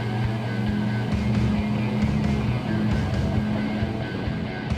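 A motorboat fitted with a Seakeeper Ride stabilization system pulls away from a standstill, its engine a steady, loud drone mixed with wind and water rush throughout.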